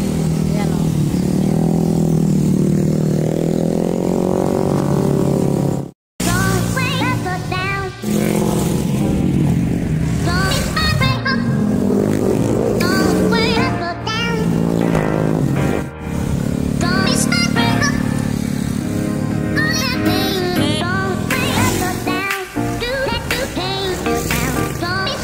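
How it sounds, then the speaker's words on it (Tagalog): Motorcycles lean through the curves of the Marilaque Highway, their engines droning and rising in pitch as they pass. People talk over the engine noise throughout. "mga motor na nagbabangking."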